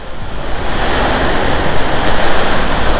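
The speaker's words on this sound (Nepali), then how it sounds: "ठुलो पानी पऱ्यो" Heavy rain pours down on a road trip between Myagdi and Narayanghat in Nepal, a steady, loud, dense roar that stays even for the whole stretch with no voices.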